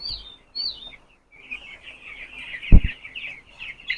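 Young broiler chickens on a poultry farm cheep and cluck in a steady chorus of high calls, close by, broken by a single sharp thump partway through.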